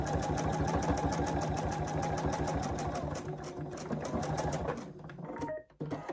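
A sewing machine stitches a quilt in a fast, even run of needle strokes close by, then slows and stops near the end.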